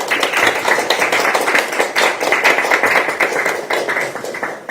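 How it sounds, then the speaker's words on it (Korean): Audience clapping for a district head candidate at a Korean election campaign rally, dense sustained applause from a crowd, steady and loud throughout without a break. "이동현 후보를 응원하는 박수를 부탁드립니다."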